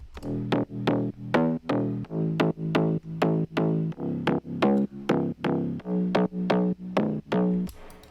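A second slap house synth bass sound from Serum pumps through a rhythmic riff of clipped, punchy stabs at an even tempo, bright at each onset and decaying quickly, with no talking.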